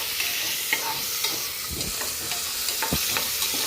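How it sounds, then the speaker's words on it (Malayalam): Small onions, garlic, ginger and curry leaves fry in hot oil with a steady close sizzle, and a spoon stirs and scrapes the pan at intervals. "നമ്മൾ ഇളക്കി ഒന്ന് മൂപ്പിക്കുകയാണ്"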